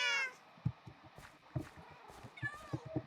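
A Minecraft cat gives a clear meow at the start and another quieter one near the end, over soft, repeated in-game thumps and faint background sounds.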